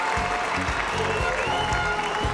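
Field hockey stadium crowd cheering and applauding after a Netherlands goal against India, a loud, continuous wash of clapping and voices with a pulsing rhythm.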